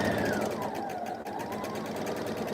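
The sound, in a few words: sewing machine stitching quilt pieces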